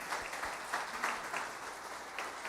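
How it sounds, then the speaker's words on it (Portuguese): Applause from a church congregation after a talk, a soft, fairly distant patter of clapping with no voices. "Pode aplaudir."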